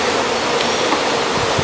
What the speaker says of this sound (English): We got two bees over there